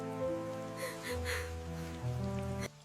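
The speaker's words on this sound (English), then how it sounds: "It's raining and so cold." Steady rain falls in an animated family story, a soft continuous patter beneath sustained background music.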